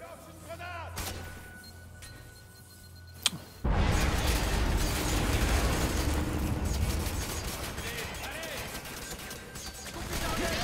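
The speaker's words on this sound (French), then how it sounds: "Je lance une grenade." Grenade blast and heavy gunfire in the shooter video game F.E.A.R. 3, starting after a few seconds of quieter in-game ambience, then a loud, dense, sustained barrage of shots and explosions filling the rest of the scene.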